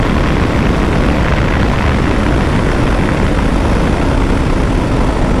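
A 2024 KTM 390 Adventure motorcycle runs flat out at top speed in sixth gear, around 160 km/h. Its engine gives a constant loud drone under heavy roaring wind buffeting, with no break for the whole stretch.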